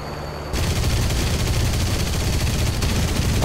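Sustained aircraft machine-gun fire in the combat game War Thunder, a loud continuous rattling burst that starts abruptly after a quiet half second and holds to the end.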